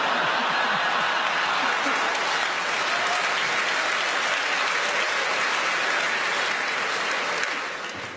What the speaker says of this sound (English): A couple of the gentlemen there started clapping before the end of that joke